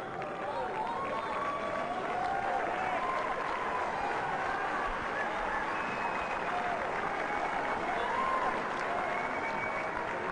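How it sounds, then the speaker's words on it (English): Spectators applaud after match point of a doubles tennis match at the Nungambakkam Tennis Center in Chennai: sustained, even clapping that carries on throughout while a commentator talks over it. "the Germans with a loud round of applause"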